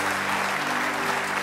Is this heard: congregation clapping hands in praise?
yes